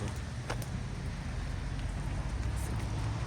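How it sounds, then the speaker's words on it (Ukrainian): Wet snow mixed with rain falls outdoors in a steady, dense hiss that holds evenly throughout, with a few faint taps and no voices. "він мокрий сніг, дощ зі снігом іде"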